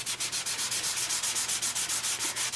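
A piece of paper card for a pop-up butterfly and dragonfly kit is rubbed clean in fast, even back-and-forth strokes, a close steady scrubbing rhythm with no talk.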